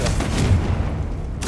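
Confringo fire spell from Hogwarts Legacy, a short booming blast that rumbles low and fades over about a second, followed by a faint sharp burst.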